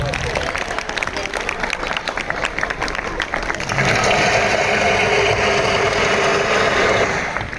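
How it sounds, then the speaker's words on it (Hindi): Loud applause from students at a school Class XII farewell, honouring their teachers; dense clapping swells partway through and carries on strong, with some crowd voices mixed in. "जोरदार तालियां हो जाए उनके लिए।"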